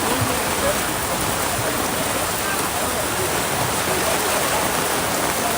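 Rain falls steadily over an outdoor football match, a dense, even hiss of broadband noise that stays loud and unbroken throughout.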